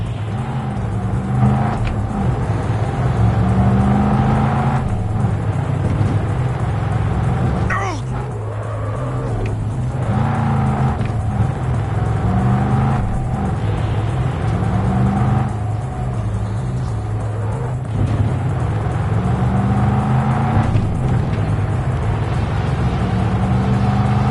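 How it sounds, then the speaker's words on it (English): A car driven hard in a chase roars continuously with its engine rising and falling through repeated revs and gear changes, loud and close throughout. "Stop the damn car!"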